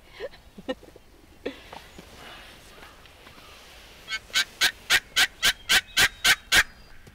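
A turkey gobbles loudly in a rapid, evenly spaced burst of about ten sharp calls, after a few quieter scattered noises.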